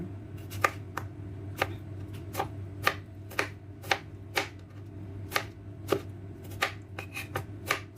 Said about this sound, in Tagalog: And then, hiwain natin yung ating kamatis.